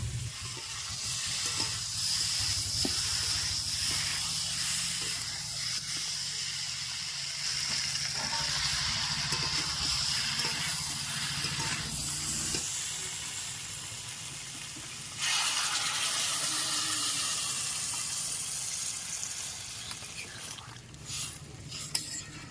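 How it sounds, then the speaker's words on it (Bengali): Pumpkin, potato and giant freshwater prawns fry in a pan as water is poured in, a steady loud sizzle that surges and hisses more brightly midway, with stirring and faint talk in the background. "ভেজে রাখা চিংড়িগুলি দিয়ে আর একটু সময় কষে জল দিয়ে দিই"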